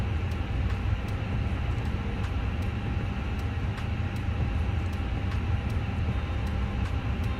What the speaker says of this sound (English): we're going to spool up the APU here